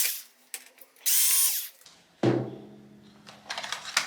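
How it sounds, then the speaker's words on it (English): A power screwdriver backs two screws out of a Samsung UN46F7100AF TV's T-Con board, two short close whirring bursts separated by small clicks and a hollow knock against the panel. "Just pop the two screws out and we have the T-Con board."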